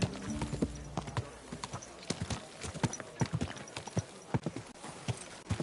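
A horse's hooves clip-clop steadily in the medieval game Kingdom Come Deliverance 2, a close, repeated walking rhythm of sharp knocks running throughout over quiet game music.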